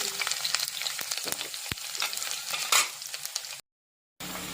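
Sliced garlic strips fry in hot oil in a pan, giving a steady bright sizzle with scattered stirring scrapes and one louder crackling burst, close and without talk, cut by a short silent gap near the end.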